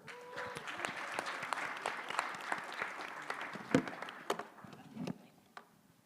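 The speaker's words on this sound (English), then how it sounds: "Can we give a big round of applause from Brent Pike" An audience applauds a presenter at a pitch competition, a dense burst of clapping that thins out and fades to scattered claps near the end.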